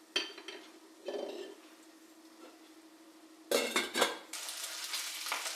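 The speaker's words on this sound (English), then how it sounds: "Add the onion to the smoked pork and fry it lightly as well." Onion frying with smoked pork in a pan, a utensil stirring and scraping, clinks of metal now and then, the frying growing louder toward the end.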